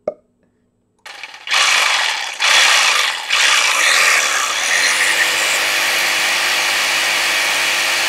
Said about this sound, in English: An electric shaker made from a jigsaw and a speed clamp.